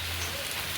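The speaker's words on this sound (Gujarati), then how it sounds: "થોડો થોડો આવે છે, બહુ વરસાદ નથી આવતો" Light rain patters steadily on surfaces outdoors, a soft, even hiss with no breaks for its short length.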